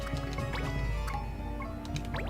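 Water spell effect from the Final Fantasy Tactics A2 game: a continuous bubbling, splashing wash of liquid sounds with scattered droplet-like plinks and gurgles, steady and moderately loud throughout.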